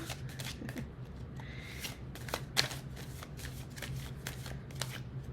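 Tarot cards being shuffled by hand, a steady run of soft papery riffles and flicks that continues throughout with no talking.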